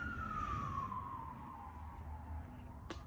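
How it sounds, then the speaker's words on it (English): A siren wails in the distance, its tone sliding slowly downward over a steady rumble of traffic, with a brief sharp click near the end. "sirens"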